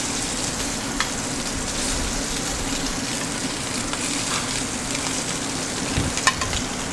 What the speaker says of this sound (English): Just a little blended oil, nice hot pan, and we want to get a really nice sear on the scallops